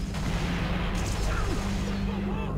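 Bomb blasts from the video game Halo Reach, heard as a dense, continuous roar of booming detonations and gunfire-like crackle that stays loud and unbroken throughout.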